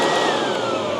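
An EGO cordless leaf vacuum runs at maximum speed sucking up gravel, giving a loud continuous close whine and rushing roar with scattered rattles of stones.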